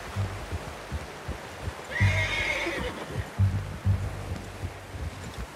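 A horse in the open-world western game Red Dead Redemption 2 lets out one loud whinny in the middle, amid plodding hoof clip-clops and low rumbling ambience, with no talking.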